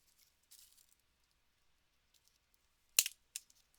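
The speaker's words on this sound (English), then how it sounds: "I'm just gonna cut some of these wires off" Wire cutters snipping wires off a small craft item from Michael's: a couple of sharp, close snips near the end, the first loudest, after near silence broken only by faint rustling.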